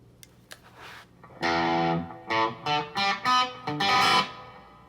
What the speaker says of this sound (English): adding the tube screamer